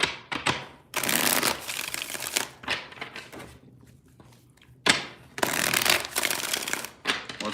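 A deck of tarot cards is shuffled by hand in several bursts of riffling and crisp flapping, separated by short pauses, close and fairly quiet.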